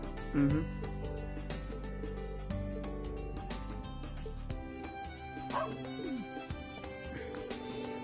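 Puppy in the video game Trails of Cold Steel III, barking a few short yips and bow-wows over layered game music, fairly close and moderately loud.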